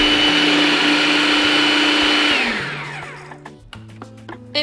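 A food processor blends a chocolate yogurt snack, a loud steady whir for over two seconds that winds down and stops, leaving faint clicks and handling noises at the end.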